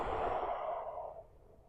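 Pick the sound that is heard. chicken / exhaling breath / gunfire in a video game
exhaling breath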